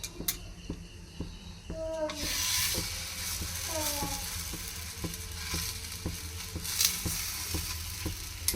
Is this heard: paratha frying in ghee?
yes